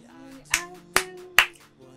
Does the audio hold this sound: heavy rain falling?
no